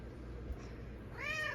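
A domestic cat lets out a faint meow near the end, rising over quiet room tone, brief and somewhat distant with no voices.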